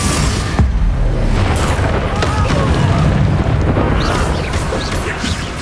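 Confringo blasting spell explosion in a video game, a loud, dense rumbling boom with crashing debris that stays heavy and continuous throughout, with a voice faintly under it.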